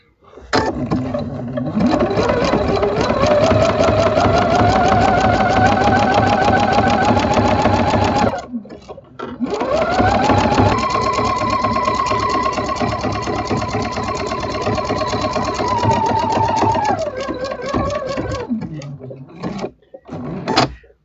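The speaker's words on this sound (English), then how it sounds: "I'm sewing along, just getting ready to be finished" A sewing machine stitches a Christmas quilt in two long continuous runs, its loud rapid mechanical whir rising in speed and holding steady, with a brief pause between runs and a slowdown at the end.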